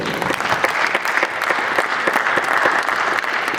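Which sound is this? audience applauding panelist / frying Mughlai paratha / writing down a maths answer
audience applauding panelist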